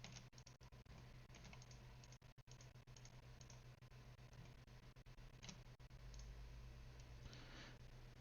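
Quiet computer mouse and keyboard clicks while working in Fusion 360, scattered soft taps over a low electrical hum, faint and close.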